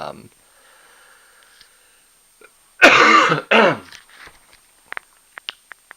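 Two harsh, loud coughs close by, after near silence with a brief faint murmur, followed by a few soft clicks.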